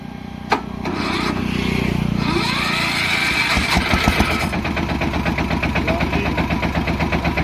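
A modified tractor engine cranks over and catches, then settles into a loud, steady, close idle with an even rhythmic chug.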